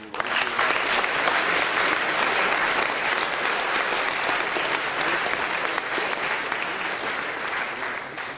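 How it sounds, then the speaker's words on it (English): Warm audience applause for an MP introduced as a speaker at a formal debating society motion, sustained dense clapping filling the hall, strong throughout with no talk. "Please give him a warm round of applause."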